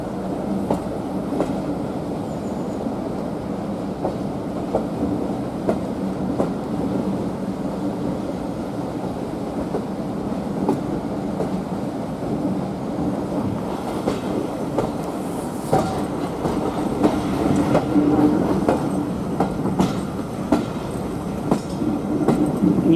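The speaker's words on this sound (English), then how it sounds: "we're a 33 diesel pushing outside. It helps with the gradients." Heritage railway train with a Class 33 diesel locomotive pushing from the rear, a steady rumbling roll with faint clickety-clack of wheels over rail joints, continuous and fairly close throughout.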